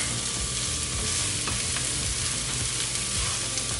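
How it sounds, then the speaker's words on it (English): Sliced sausage pieces browning in a hot pan give a constant loud sizzle and crackle, with a few faint scrapes over the steady frying, close up and with nobody talking. "we have the sausage browning here"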